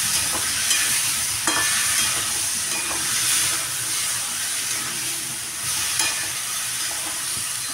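Vegetables sizzle and hiss steadily in a pan over gas for samosa filling, with occasional scraping stir strokes and clinks from a utensil, fairly close and moderately loud, no talking.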